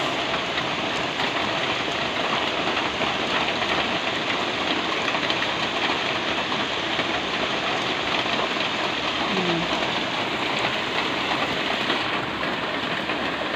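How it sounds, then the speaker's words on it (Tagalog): Steady heavy rain pouring down, a dense unbroken hiss of drops on surfaces throughout, with no voices. "Malakas po ang ulan dito."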